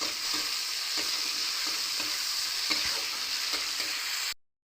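Tomatoes fry in a pan for a village-style stuffed potol dish, a loud continuous sizzle with regular stirring scrapes and taps, ending abruptly in silence.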